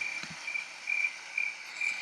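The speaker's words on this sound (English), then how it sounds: "And then crickets." Crickets chirping in a steady, repeating pulse, shrill trills recurring every half second or so against quiet background, with one soft thump early on.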